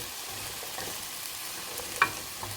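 Onions frying in a pot at the start of a beef stew, a steady soft sizzle with an occasional light clink of a utensil.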